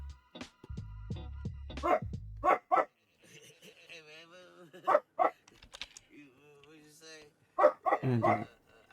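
A dog barks in a string of sharp, loud yaps, several in quick succession at first and then scattered ones, close by, with a person talking between the barks.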